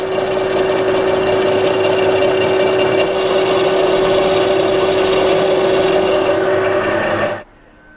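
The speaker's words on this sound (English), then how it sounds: "2 cutters, one for the inside, one for the outside, making that diameter. This seems to be cutting quite easily." Annular cutter boring a hole into a Jaguar XJ40 rear shock top mount, a steady loud grinding, rasping drone with a constant whine that runs about seven seconds before stopping abruptly.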